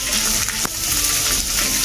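Water pours into a cooking pan while chicken manchurian is being made, a steady close-up gush and splash lasting about two seconds without a break.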